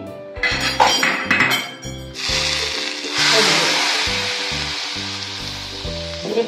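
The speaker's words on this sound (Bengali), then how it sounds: "এই দেখো ফাটছে ফোড়নটা, দেখেছো?" Spices for a besan dal tempering crackle and sizzle in hot oil, with bright spattering pops and clinks of utensils against the pan, the sizzle swelling midway and continuing steadily while a voice talks over it.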